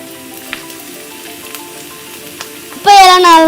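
Tomatoes dropped into a hot pan of spiced masala for chicken biryani, setting off a sudden loud sizzle near the end after a quieter stretch of gentle frying and occasional stirring clinks.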